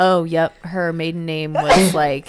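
A single short, sharp sneeze bursts out in the middle of casual conversation between women, set against their ongoing talk.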